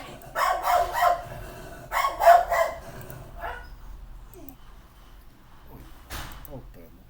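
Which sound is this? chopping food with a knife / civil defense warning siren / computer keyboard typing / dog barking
dog barking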